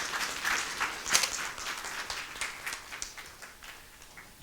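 A church congregation claps in thanks during a sermon: a soft, steady patter of many hands, fairly faint and diffuse, swelling slightly early and then tapering off.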